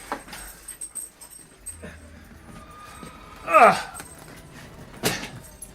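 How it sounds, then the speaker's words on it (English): Posey, a young puppy with arthritis, gives one short, high whimper midway through and a fainter cry shortly after. The sounds are close and come between quiet stretches of people talking and soft handling noises. "Yes, Posey the puppy."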